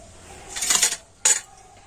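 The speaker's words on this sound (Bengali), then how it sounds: "এইভাবে অল্প অল্প করে জল দিয়ে আর ব্যাটারটা আমি গুলে নেব" A spoon clinks and scrapes in a bowl while store-bought dried rice flour, salt and warm water are mixed into batter for chitoi pitha, two short metallic bursts close up, the second sharper.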